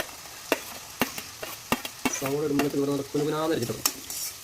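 Finely chopped onion sizzling in hot oil in a pan for paneer butter masala, with sharp scraping stirs at regular intervals and a brief voice speaking over the frying.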